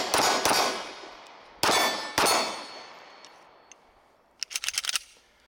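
Mossberg MC2c 9mm pistol shots ringing off a steel mini target at a range: three loud, separate shots with long metallic ring-outs, then a quick burst of several rapid shots.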